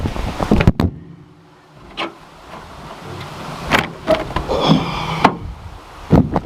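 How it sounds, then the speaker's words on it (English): An old wagon's car door is forced open with a series of metallic clunks, knocks and rattles, some sharp and close, spread irregularly across several seconds. "I'll try and get this door open"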